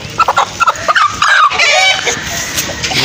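An Aseel hen clucks close by in a quick series of short, sharp calls, followed by a steadier stretch of overlapping calls, with no talking.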